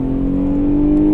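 A 2017 Lexus IS 350 F Sport sedan's engine pulls hard under acceleration, a loud, steady close-up drone holding a strong tonal pitch with a faint clatter near the end.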